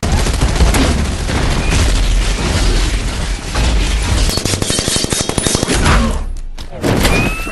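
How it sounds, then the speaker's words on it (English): An Iron Man repulsor palm beam fires as a loud string of booming, rapid blasts, like dense gunfire, with heavy low thumps throughout. "a convenient beam in the palm of your hand that blasts enemies away"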